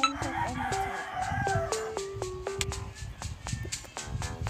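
A rooster crows repeatedly in a loud, clear run of rising and falling calls, with some clucking between them, close and prominent in a quiet setting.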